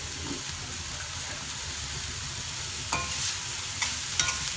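Long beans being stir-fried in a pan give a steady close sizzle, with scraping stirs and a few sharp clinks of a utensil against the pan and no talking.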